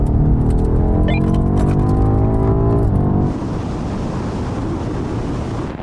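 A BMW M5 CS, M8 and M5 Competition accelerate hard together from a 50 mph rolling start in sport mode with manual gearshifts, a loud, continuous roar of engines and wind that rises in pitch, then drops to a steady rushing drone.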